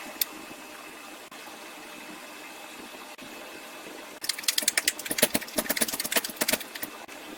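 A silent block bushing is pressed into a VW Sharan front suspension arm, heard as a steady low mechanical hum that breaks, partway through, into a dense run of sharp clicking and crackling bursts.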